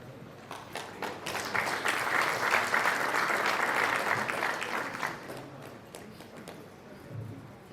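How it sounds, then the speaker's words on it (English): At a national journalism award ceremony, an audience breaks into sustained applause, the dense clapping swelling and then thinning out into scattered claps. "let's please give a round of applause for our heroes, our leads, all the winners."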